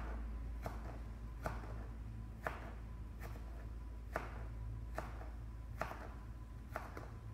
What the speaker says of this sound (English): Got most of my onion cut up.